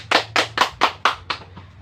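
A class of students claps hands together, six sharp, evenly spaced claps ringing out close and loud with no talk over them.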